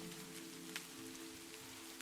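Soft rain ambience in a jazz track plays steadily at low volume, a continuous patter with faint drop ticks over a sustained low musical drone.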